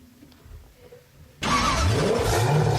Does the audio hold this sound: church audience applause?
no